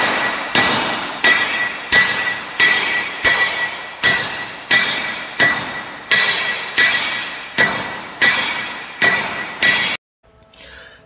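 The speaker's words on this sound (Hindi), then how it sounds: "किसी गर्म धातु को आकार देने के लिए भी हम हैमर का प्रयोग करते हैं।" A hammer strikes hot metal being shaped, about a dozen loud ringing blows at a steady pace, each decaying before the next, then stopping.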